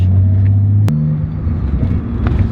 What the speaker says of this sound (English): You can hear those turbos whining. They make more noise the older they get.